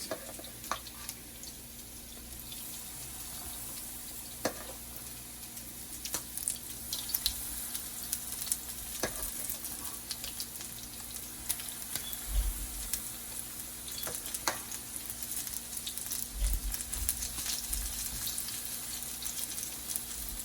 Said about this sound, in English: I'm gonna add in my fritters now in the pot. The oil is hot.